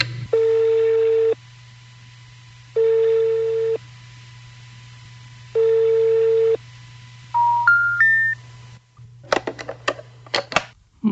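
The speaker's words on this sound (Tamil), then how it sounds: "கோல் ரிங் ஆகுது" A telephone rings in three long, evenly spaced bursts, followed by a quick run of rising dial tones and scattered clicks over a steady low hum, with no voices, as part of a Sri Lankan radio morning programme sketch.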